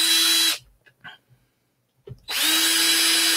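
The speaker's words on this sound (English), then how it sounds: "I've marked my holes of where I'm drilling, and it made hole, like a little mark in the plexi" Power drill boring holes into plexiglass, a loud steady whine that stops for about two seconds of quiet handling noises before the drill starts up again.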